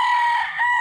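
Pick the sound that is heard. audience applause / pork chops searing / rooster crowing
rooster crowing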